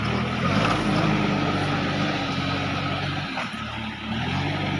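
Sonalika mini tractor engine driving through mud, a loud, steady low drone with a brief dip in the middle before it picks up again.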